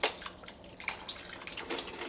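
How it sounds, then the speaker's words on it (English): Beef stock poured into a pot over braised beef short ribs, giving a light splashing trickle with small drips and gurgles, close and fairly quiet, without talk. "I'm going to add more beef stock to get these as covered as possible."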